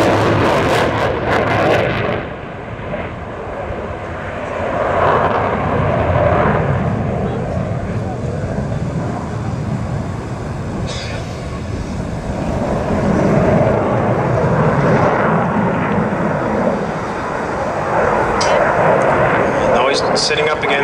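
Aerobatic fixed-wing airplane banking through a turn at the 2012 Aalborg airshow in Denmark, its engine a broad, steady roar that swells and fades across the sky, with commentary over it.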